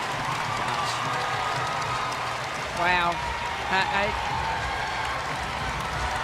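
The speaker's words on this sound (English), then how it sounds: "the crowd in attendance standing and cheering this remarkable performance" A college basketball crowd at a Kansas State vs Oklahoma game stands and cheers in a steady, fairly distant roar, with a brief nearby voice exclaiming.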